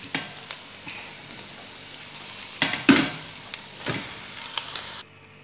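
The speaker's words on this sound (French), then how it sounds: "je suis en train de faire frire ma viande." Minced meat frying in a pan with salt and onions, a low steady sizzle broken by louder scraping and stirring clatters from a utensil, then cut off abruptly near the end.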